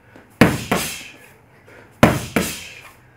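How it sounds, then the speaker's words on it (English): Krav maga self-defence training: hammer fist strikes land on held focus pads as four sharp slaps in two quick pairs, each crack fading briefly before the next. "So I'm going to get focus pads and Sir's going to work with me with hammer fists"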